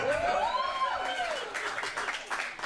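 A comedy show audience claps and cheers in a steady crowd wash, with a few whoops rising and falling over the applause throughout.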